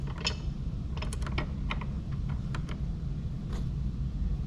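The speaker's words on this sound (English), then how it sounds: "Thread a few threads with my finger and then the rest with a wrench." A wrench ratchets in quick light clicks while a bolt is threaded and tightened onto a ditch light bracket on a 2024 Ford F150 Raptor, over a steady low background hum.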